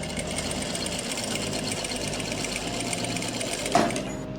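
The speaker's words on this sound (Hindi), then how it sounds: "अब हम चारों तरफ इसकी सिलाई लगा देंगे।" A sewing machine runs steadily at close range, stitching fabric for a straight plazo with a continuous fast whirring clatter that ends with a brief sharp knock near the end, with no talking.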